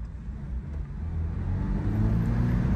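A Toyota GR86 accelerates on the road, its engine note a low, steady drone that gradually rises and swells in loudness from inside the cabin, no talking.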